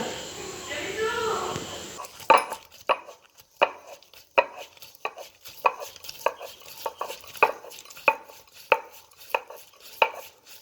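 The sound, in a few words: grinding lentils (dal) by hand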